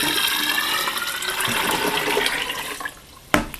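Water running and splashing steadily as it is poured into a fermenter for a home-distilling sugar wash, a continuous broadband rush that thins out near the end before a brief knock.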